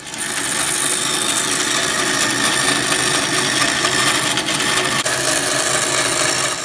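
Bandsaw cutting a squeegee shape out of recycled polypropylene, a steady continuous buzzing cut that runs loud and unbroken throughout with no talking.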